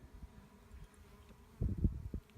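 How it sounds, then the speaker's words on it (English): Honey bees buzzing around an opened hive being smoked during spring cleaning, a low steady hum that swells louder near the end, close by with no talk. "There's some bees that are fighting."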